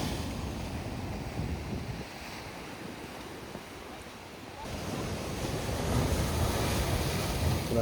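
Rough sea waves break and wash along the Chaliyam seashore, a steady roar of surf mixed with wind buffeting the microphone, swelling louder toward the end.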